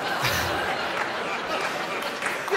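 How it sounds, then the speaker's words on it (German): Faint theatre audience applause at a comic classical-music concert performance, a soft, steady wash of clapping with a few scattered chuckles, heard from a distance. "das Applaus entwickelt sich auch nicht mehr"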